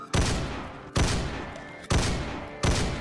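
Gunfire in Project Zomboid, four loud close shots evenly spaced about a second apart, each with a short decaying tail.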